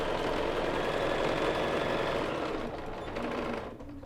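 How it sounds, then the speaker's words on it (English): Sewing machine stitching the side seams of a fabric basket, a fast, even mechanical whir running close and continuously before slowing and fading as the stitching stops. "going to stitch the 2 side seams"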